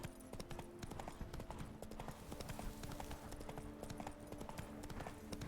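Hooves of Roach, the horse in The Witcher 3, clopping steadily at close range over a dense bed of game music and ambience, with no talk.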